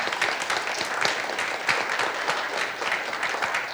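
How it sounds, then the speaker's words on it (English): An audience at a fact-checking forum applauds the panel speakers with dense, continuous clapping that stays steady and fairly loud from start to finish, with no voices over it. "let's have a big clap to all the speakers"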